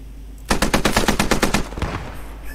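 A .50 caliber machine gun fires in the Post Scriptum war game, a loud, close burst of about a dozen rapid rounds in steady rhythm that trails off into echo, with no talking.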